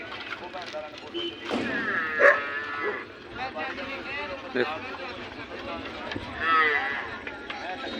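Buffalo low repeatedly at a busy livestock market, long drawn-out calls rising over murmuring voices and shuffling hooves nearby.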